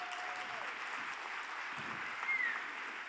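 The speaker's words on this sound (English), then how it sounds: "Can you guys give him an applause?" Applause from a seminar audience carries on quietly and steadily in the background, a soft, even wash of clapping with a faint tone drifting over it.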